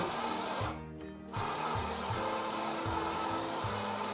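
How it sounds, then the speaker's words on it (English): A power drill whirs steadily at low speed in reverse, its motor pulsing in a repeating rhythm, with a brief pause early on before it resumes. "put your drill in low speed, put it in reverse"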